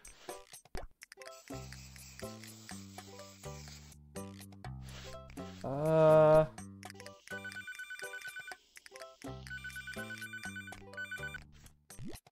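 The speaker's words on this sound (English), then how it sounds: "the next one's gonna be a phone call" A phone rings in the video game Papa's Freezeria Deluxe, a bright chiming electronic ringtone in repeated melodic phrases mixed with plucky game music and a brief sliding effect, loud and close, no voices.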